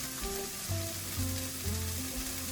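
Onions with sage sizzle and fry in a pan at an RV campsite, a soft steady crackle with a few stirring clinks, close and quiet.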